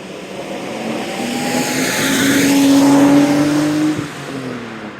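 A Nissan Skyline R32 cruises down the road, its engine note droning steadily and swelling louder mid-clip with rising and falling harmonic tones, accompanied by road and wind rush, with no talking.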